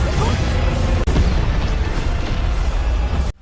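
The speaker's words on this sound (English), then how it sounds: "because the explosion was just so powerful, the area around the blast turned into a dimension of darkness" A powerful explosion blast from the animated series Swallowed Star, a loud, sustained roaring rumble that cuts off abruptly at the end.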